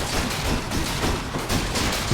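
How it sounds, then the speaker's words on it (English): Enemies in the video game Hades blow up in quick chain-reacting death explosions, a loud, dense burst of overlapping crackling blasts that barely lets up. "This is where Aphrodite's like weak explosion when enemies die is so helpful. Because they just like chain react and kill themselves"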